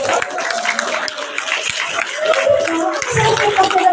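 Louder applause from a company audience at a branch event in Guiguinto, steady clapping mixed with crowd chatter and shouts, continuing without a break.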